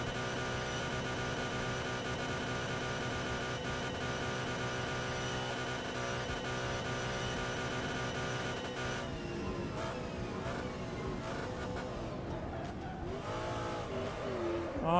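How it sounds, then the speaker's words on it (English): A 1990 ATCC touring car in a sim racing game at Bathurst screams at high revs in top gear down Conrod Straight: a loud, steady engine whine that shifts pitch near the end, with no talk. "Listen to that engine screaming"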